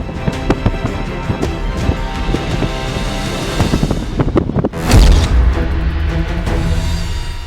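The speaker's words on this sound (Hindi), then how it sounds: "जिरकॉन मिसाइल लॉन्च होती है और अपने टारगेट की तरफ बढ़ जाती है।" Russian Zircon hypersonic cruise missile launched from a ship, heard as steady wind-blown rumble and crackle, then a sudden loud roaring blast that swells and holds as the missile climbs away.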